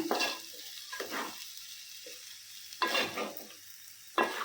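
Aloo masala curry in a pan is stirred with a spoon: several distinct scraping strokes over a faint background sizzle, close and clear, with no talking.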